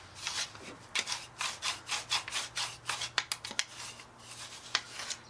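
Card scraper drawn across a wooden surface in repeated strokes, a dry rasping scrape with a regular rhythm of about two passes per second, close and moderately quiet with no talk.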